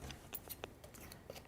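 Scissors trim off a paper border with a few quiet, close snips and soft papery ticks, spaced irregularly over a faint background.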